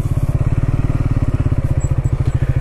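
A motorcycle engine runs close by on a mountain route between Darcha and Purne village in Zanskar, a loud, steady, rapid thumping idle with no voices over it.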